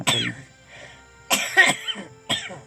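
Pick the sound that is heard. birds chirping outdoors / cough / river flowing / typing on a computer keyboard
cough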